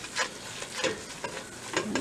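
A flour roux for ham and sweet potato soup is stirred in a hot pot, with soft rhythmic scraping strokes over a low steady sizzle; brief, close and alone.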